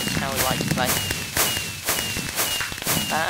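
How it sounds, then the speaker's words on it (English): Fireworks bursting in the Minecraft-style game Quakecraft, a run of sharp crackling pops and bangs repeating through the stretch, loud and close, mixed with game sounds and a voice talking over them. "Fireworks."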